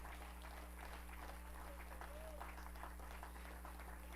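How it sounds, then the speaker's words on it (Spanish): Sustained clapping from a church congregation at a Sunday service, dense and even throughout, heard from a distance over a steady low hum, with scattered voices faintly underneath. "Fuerte las palmas a Él."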